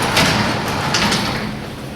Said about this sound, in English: I'm going to check the door for proper balance and adjustment.